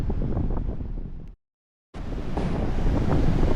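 Steady roar of ocean surf at Gouritsmond, breaking near rocks, mixed with buffeting wind on the microphone, loud and continuous, broken by a brief dropout of silence midway.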